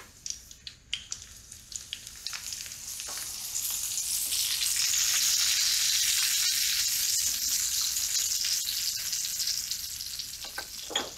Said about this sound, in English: let's take our mushrooms. The first time in the pan